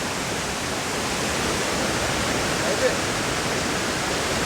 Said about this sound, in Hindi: बिल्कुल दूध सा पानी निकल रहा है